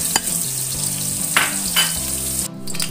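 Spice paste sautéing in a generous amount of hot oil for a homestyle carrot and papaya stir-fry, giving a steady, close sizzle with stirring throughout and a brief dip in the sound near the end.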